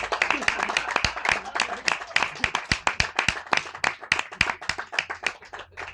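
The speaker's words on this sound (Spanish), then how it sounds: "Un aplauso fuerte" Audience applause welcoming Bart Gummer on stage at a Sitges festival presentation, a lively patter of many hands with sharp individual claps standing out, steady and fairly close, with voices mixed in.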